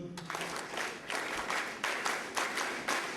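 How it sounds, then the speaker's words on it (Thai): A group of students at a Thai university development camp claps in rhythmic sets, bursts of synchronized clapping repeating at regular intervals, moderately close and without talk. "ทำสิ่งไหนก็ต้องทำนะที่ตัวเราให้เรียบร้อยซะก่อนสามครั้ง ปรบมือหนึ่งชุด"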